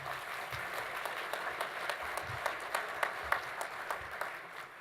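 Audience applause at a conservation leadership luncheon, a dense, continuous round of clapping from a crowd with sharper individual claps standing out, steady for several seconds without speech.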